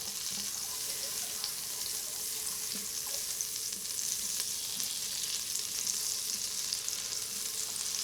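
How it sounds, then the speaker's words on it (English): Unsalted butter melts in an Instant Pot with a continuous soft sizzle and a few faint clicks and stirring taps, with no talking. "so while our butter is melting, we'll go ahead and put in our vegetables"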